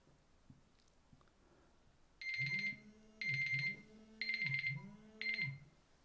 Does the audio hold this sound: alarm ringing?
yes